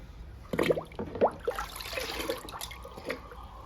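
Rice or lentil washing water is poured onto indoor plants and splashes in short bursts, then trickles and drips softly, close by and fairly quiet.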